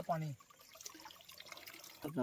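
Soft natural water trickles steadily on a farm in the background, bracketed by a voice speaking briefly at the start and again at the end.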